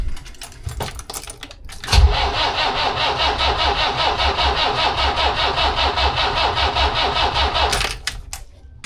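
A Volvo Penta MD21A diesel boat engine cranks briefly, then catches and runs with a loud, steady rhythmic chugging for several seconds before cutting off near the end.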